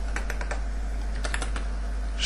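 Quick bursts of keystrokes on a computer keyboard, close and clear, in two short clusters over a steady low hum, with no voice.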